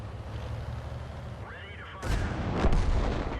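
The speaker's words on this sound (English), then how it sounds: "And there is Artie doing his best to wreck me." Enemy artillery shells striking an M41/90 tank in a tank battle game: a steady engine rumble, then a whistling rise and a heavy, booming impact crash followed by a second sharp hit, close and loud.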